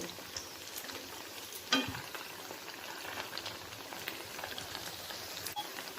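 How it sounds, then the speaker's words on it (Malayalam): Rava (semolina) mini vadas frying in hot oil give a steady, moderate crackle and hiss that runs throughout, with one brief sharper pop near the middle. "ഇതുപോലെ തിരിച്ച് മറിച്ച് നോക്കിയിട്ടിട്ടൊന്ന് ഫ്രൈ ചെയ്തെടുത്താൽ മതി കേട്ടോ"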